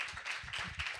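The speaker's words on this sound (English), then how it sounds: "And can we give her Marcia a round of applause?" An audience at a community paths and transport policy event applauds an advocate, a short, quick run of clapping heard at moderate distance.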